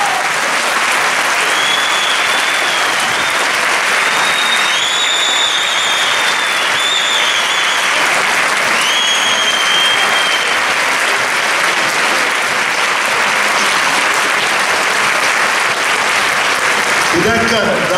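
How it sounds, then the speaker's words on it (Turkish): Sustained, loud applause from a crowd at a professional accountants' chamber election meeting for the candidates, dense and unbroken for the full length, with voices and a few whistle-like tones mixed in. "Seçime girecek yönetim, denetim, disiplin kurulu tüm adaylarımıza yürek dolusu bir alkış bekliyorum."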